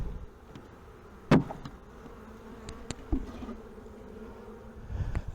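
Honey bees buzzing during a cutout of a hive from a front porch column, a steady low drone with a few sharp knocks and thumps, no talking.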